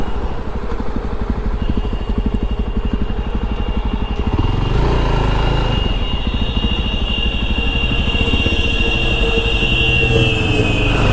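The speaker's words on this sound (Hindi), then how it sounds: "2 बाइकों में रेस लग रही है।" Two motorbikes race through late-night traffic on the DND flyway between Noida and Delhi, their engines buzzing loud and close with a rapid pulsing throb, then a revving rise and a sustained whine as they pull away.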